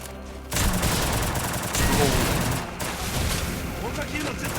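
Dense, continuous bursts of gunfire in Free Fire, loud and rapid, with booming impacts layered over a busy battle backdrop.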